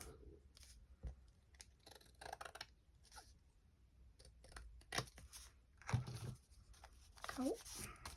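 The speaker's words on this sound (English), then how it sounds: "Trim that off a wee bit." Scissors trim a paper bag for an altered-paper craft journal, giving a few quiet, scattered snips with faint rustling while a person talks softly.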